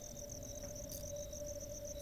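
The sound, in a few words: crickets chirping, from a video game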